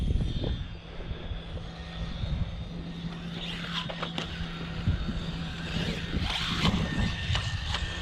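A Losi Promoto MX RC motorcycle runs with a steady electric motor whine, revving and easing off over about eight seconds, fairly close, with outdoor background noise.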